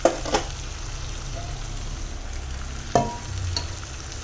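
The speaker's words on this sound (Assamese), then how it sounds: "মাংসখিনি ভাজি হৈ গ'ল এতিয়া মই যিখিনি পানীত বইল কৰিছিলোঁ মাংসখিনি এইখিনি পানী মই ইয়াতে এড কৰি দিম" Goat meat frying in a pot crackles with a steady sizzle as water is poured in, with a couple of sharp clinks from a utensil stirring and no talk.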